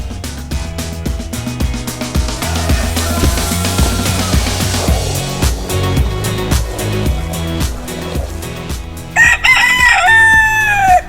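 Chickens and a rooster on a morning farm, a rooster crowing loudly near the end over a busy backdrop of clucking and other bird and barnyard sounds.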